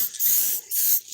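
Car being spray painted at close range during detailing, three bursts of airy hiss, each about a third of a second long, separated by brief pauses, steady and fairly loud.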